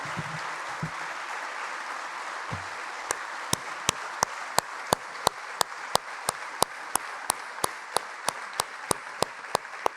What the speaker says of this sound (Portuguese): pedir o vosso aplauso, porque foram extraordinários presidentes de junta de freguesia